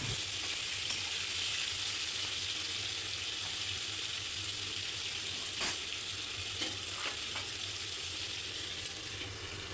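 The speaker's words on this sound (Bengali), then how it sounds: "তেলটা ভালো করে গরম হয়ে গেলে ভাপানো ফুলকপি আলুটা ভালো করে ভেজে নেব।" Pieces of steamed cauliflower and potato fry in hot oil for aloo gobi, producing a continuous close sizzle and hiss with a few sharp crackles and the odd stirring knock.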